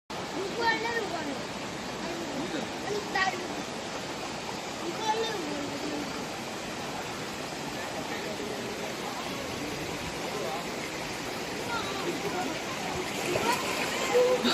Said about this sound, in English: let's go check out the waterfall